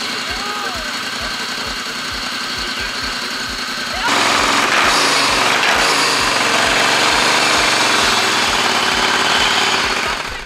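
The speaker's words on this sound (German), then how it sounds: "Mit Kompressor holt der Edeltuner rund 90 PS aus dem Zweizylinder." A tuned, supercharged two-cylinder engine of about 90 hp at a tuning event chugs with a steady pulsing idle, then revs hard into a loud, dense roar from about four seconds on. It stays near and loud to the end.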